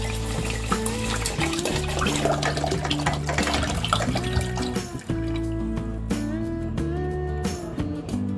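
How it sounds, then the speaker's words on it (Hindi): Water pours steadily onto washed urad dal and rice in a kitchen vessel while dosa batter is prepared. It is a continuous, moderately loud splash, partly masked by steady background music. "अब हम इसमें पानी डालेंगे"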